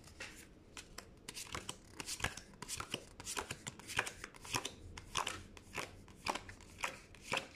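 Pokémon trading cards being sorted by hand, a steady series of close, crisp card flicks and slaps, some quick and some spaced apart, with soft shuffling between them.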